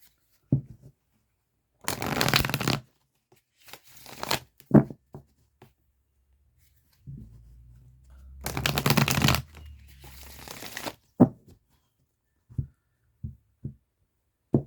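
Tarot cards are shuffled in two bursts of quick, close riffling, with soft card taps and handling clicks between them in an otherwise quiet room.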